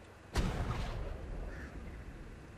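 A single cannon in Ark Survival Evolved fires with one sharp, close blast, and the rumbling boom fades slowly afterward.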